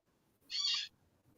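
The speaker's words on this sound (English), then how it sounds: "Sorry, the birds are yelling." An owl-like bird gives a single loud hoot outdoors, lasting about half a second, over a faint low background.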